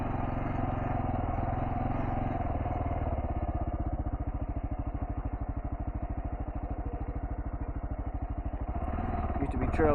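A Kawasaki KLR650 dual-sport motorcycle on Shinko 244 tires rolls slowly along a trail, its single-cylinder engine thumping steadily and loudly up close with a low throbbing pulse, while a rider talks over it.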